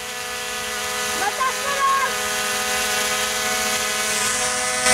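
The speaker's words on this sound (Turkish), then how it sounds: "Evet, drone'umuz geliyor bu arada." A Xiaomi Mi 4K quadcopter drone flies back and lands near toys, its rotors making a steady, loud, close whirring whine throughout, with a brief voice underneath.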